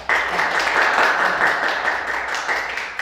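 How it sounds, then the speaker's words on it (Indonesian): A classroom audience claps for a presenting student group during a teaching practicum exam, steady dense applause filling the room for about three seconds at an even level. "kasih aplaus untuk kelompok Fadila"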